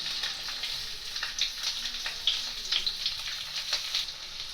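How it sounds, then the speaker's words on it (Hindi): Chopped onion sizzles steadily in hot oil in a kadhai, a close, continuous crackling fry with small pops throughout and no voices. "जैसे ही तेल गर्म हो जाए हम इसमें ऐड करेंगे कटी हुई प्याज"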